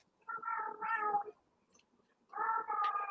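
A cat meows twice in quick succession, then again after a short pause, loud, close and drawn out, with no talk over it.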